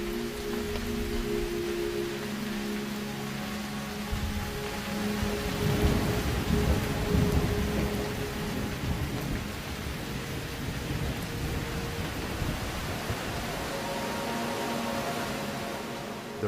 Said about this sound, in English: This is the summer rainy season in Ethiopia.